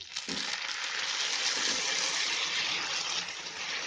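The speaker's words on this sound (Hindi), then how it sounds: "अब थोड़ा सा इसमें मैं पानी डाल रही हूँ।" About a tablespoon of water poured into a pan of brown sugar while making homemade muesli, a short, close, steady splashing gush with no talk over it.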